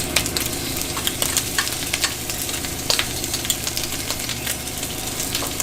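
Chorizo and onions frying in a pan make a continuous loud sizzle with crackles and occasional sharp ticks from stirring, heard close up without speech.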